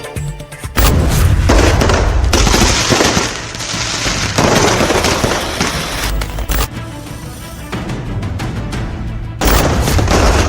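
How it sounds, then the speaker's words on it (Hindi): Dense, loud bursts of Diwali firecrackers crackle and boom almost without pause, overlapping rapid pops and heavier blasts filling the air. "देश भर में दिवाली पर जमकर पटाखे फूटे।"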